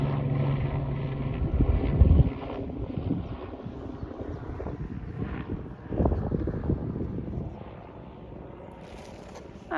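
A model Hawker Tempest aircraft coming in to land, its engine a low, wind-buffeted drone that dips and swells before fading as it settles, heard outdoors from a distance without speech.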